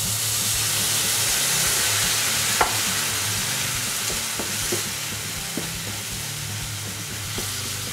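Steady frying hiss and bubbling from a pan of vegan bravas sauce with seaweed broth simmering over moderate heat, with occasional scraping stirs and small pops throughout, no voices.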